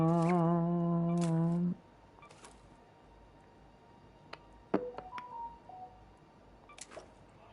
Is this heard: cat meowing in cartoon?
no